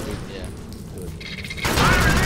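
Gunfire in Swarm hits exploding barrels, with rapid muffled shots building into a loud, dense blast of sustained noise at the end.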